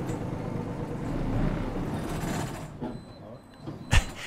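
An old bus in Malta drives with a low, continuous rumble and rattle, steady for a few seconds before easing off, then a brief sharp knock near the end.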